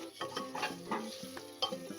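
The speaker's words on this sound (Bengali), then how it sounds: "এবার এই মশলার সাথে ভালো করে আমরা মাটন লিভারটা রান্না করব।" Mutton liver stir-fried with masala and salt in a pan, a quiet close-up of a spoon scraping and turning the pieces in quick uneven strokes over a soft sizzle, no speech.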